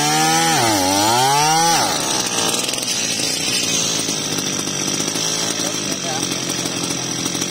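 A Mitsubishi T170 grass cutter engine drives a water pump: it revs up with a rising, wavering whine and then settles into a loud, steady, buzzing two-stroke drone, close by, while someone talks over it.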